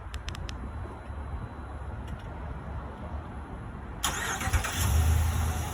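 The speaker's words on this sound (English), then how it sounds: "you also can start your truck, so I'm going to go ahead and show you that" A 2020 Ram 1500 Longhorn pickup fires up by remote start after a few quiet seconds, its engine catching with a sudden rush of noise and settling into a low, steady rumble close by.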